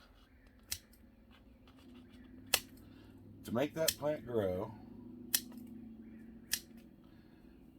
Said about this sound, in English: So I'm going to take the scissors.